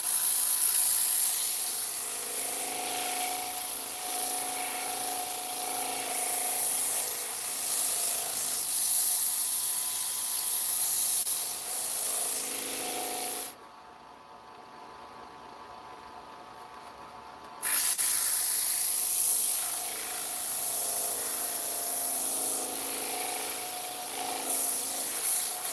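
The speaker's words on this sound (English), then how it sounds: "it's the pressure you put on the sandpaper." Sanding sponge rubbed against a rotating piece gives a steady, close hiss that stops briefly midway and then resumes.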